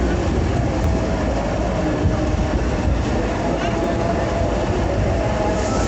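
The Jaffar Express sits at Raiwind Junction station, a steady, loud rumble of train and platform noise with voices mixed in throughout.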